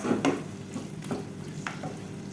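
Chicken curry stirred in a pan: a few soft spoon scrapes and knocks over a quiet, continuous sizzle, close and unhurried, with no voices.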